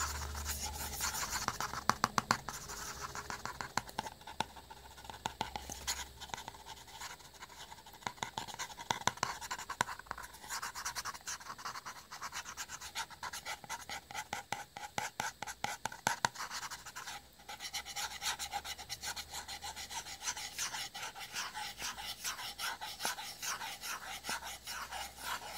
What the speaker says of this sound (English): Some scratchy sounds.